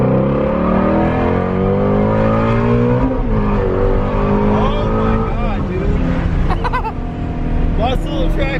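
A Shelby GT350R Mustang accelerates hard on a track, its engine roaring loud and close, rising through revs, dropping at a shift and climbing again, with tire noise and people talking over the engine.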